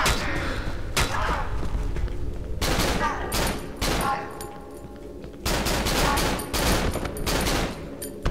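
Bursts of gunfire from weapons in the horror video game Cry of Fear, loud and close, with several rapid volleys separated by brief lulls and thuds.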